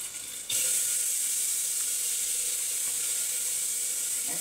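Asafoetida and chili tempering in hot oil for urad dal, a loud, steady bright sizzle that starts abruptly after a short pause and hisses on without a break.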